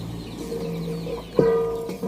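A hen clucks nearby, a few short throaty calls with one louder squawk near the middle, over quiet background noise.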